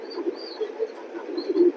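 Racing pigeons coo in a low, repeated rhythm, several soft throaty calls close by, alone with no talk and a faint high hum behind them.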